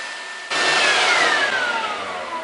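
A hair dryer blows onto the underside of a Singer 237 sewing machine, a loud steady whooshing roar that switches on abruptly and carries a faint falling whine, close and continuous with no talk.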